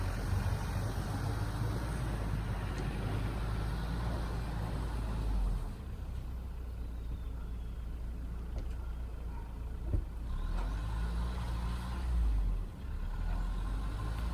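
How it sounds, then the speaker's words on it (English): Mahindra Roxor off-roader engine revving loudly in first gear low range in a sandbox, a steady close drone with slight swells and dips, no talking. "you can hear how loud the engine is revving"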